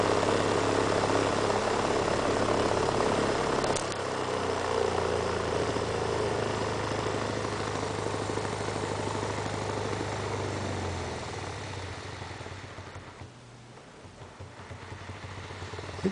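A Hall sensor controlled magnet rotor motor spins with a steady whirring hum and low drone that shifts partway through and gradually fades toward the end.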